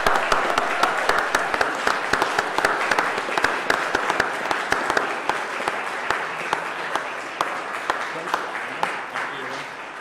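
A church congregation claps in tribute to its boys' and girls' brigade leaders during a harvest festival service, a steady dense patter of many hands sustained throughout at moderate level, with some voices mixed in.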